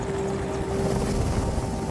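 A military attack helicopter flies close overhead, its loud, steady rotor and engine drone holding unbroken throughout.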